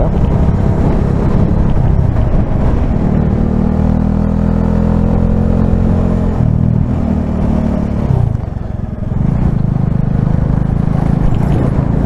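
Strong wind roars across the mic during a Bajaj Dominar 400 motorcycle ride at about 1748 m altitude near Gökçeova Pond, a loud, continuous buffeting rumble that dips briefly toward the end.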